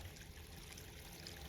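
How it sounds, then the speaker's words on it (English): Water flowing down a wet-weather stream near a roadside culvert, a soft, continuous trickling rush heard quietly and alone for a brief moment. "And you can see where the water's moving."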